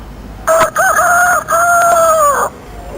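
A voice imitates a village rooster crowing, giving one loud, close, drawn-out call with a couple of brief breaks before it trails off.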